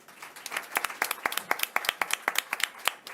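A few people clap at a moderate, uneven pace, crisp individual hand claps close by in a quiet room.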